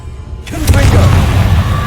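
A Confringo fire spell explodes in the Hogwarts Legacy video game, a deep booming blast with crackling burst that follows a shouted spell name, rumbling on loudly beneath game noise.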